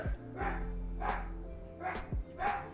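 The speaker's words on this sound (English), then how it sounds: "Sorry for the dog barking if you guys can hear that." A dog barks four times in slow, evenly spaced bursts, moderately close and fairly loud, with a faint background hum between barks.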